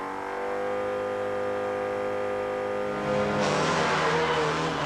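A Vauxhall Astra touring car at a 1999 rallysprint runs roughly on three cylinders, giving a steady, uneven engine drone that swells into a louder, rougher roar partway through.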